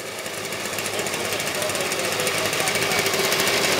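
An engine fitted with leaf-blower forced induction runs on a dyno, a loud, dense, rapid rattling roar that holds steady and builds slightly in volume over a few seconds.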